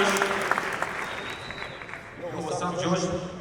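An audience at a live question-and-answer event with a mixed-martial-arts fighter breaks into sustained clapping that swells again toward the end, mixed with voices.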